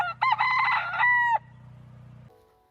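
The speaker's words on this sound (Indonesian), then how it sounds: "dengan segera berkokoklah ayam jantan." A rooster crows once, loud and close, with a rising and falling call lasting over a second over a constant low hum. The call fades into quiet afterward.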